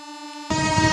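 A train horn in a comedy skit, a steady tonal blast that abruptly swells into a louder, rougher horn with rumbling noise beneath, brief and close.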